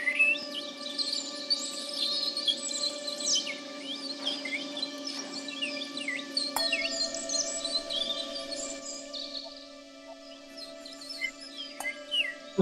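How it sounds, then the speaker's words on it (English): Birds chirp and trill in high, fluttering bursts over a steady low hum and sustained tones, moderately quiet throughout. "That sound is trilling, which is the frequency of birds chirping."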